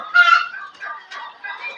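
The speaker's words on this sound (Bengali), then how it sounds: "এই যে আমার মুরগগুলা কত সুস্থ সবল এগুলা" Domestic chickens kept together with ducks and geese on a small poultry farm, giving a few close, moderately loud clucks and short calls in an irregular sequence, with no talk.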